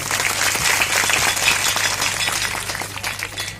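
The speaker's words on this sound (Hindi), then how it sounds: "आप सभी लोग ताली बजाकर एक बार उनका अभिनंदन करें" An audience claps continuously in dense, even applause welcoming a guest, a former minister and legislator, at a religious discourse gathering in Chhindwara, loud and close, with no talking.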